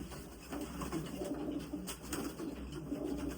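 Pigeons coo softly in a breeding loft, with low, rounded calls that repeat in a gentle rolling rhythm, fairly quiet and close.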